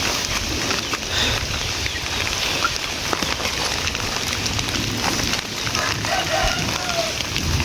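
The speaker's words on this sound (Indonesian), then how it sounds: "Suasana kampung yang asri saat turun hujan teman-teman." Steady rain falls across a village, a broad continuous hiss with occasional drips and patters close by, with faint voices of people in the background.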